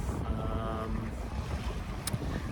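A sailboat moves under sail in about 10 knots of wind, with steady wind and water rush filling the background. A broadband noise carries throughout, with a brief louder splash or gust near the end.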